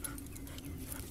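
A dog pants and whimpers softly over continuous low background noise.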